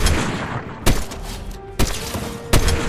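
Three sharp gunshots in a Fortnite match, spaced about a second apart over a steady background hum, distant-sounding and moderately loud, with no talking.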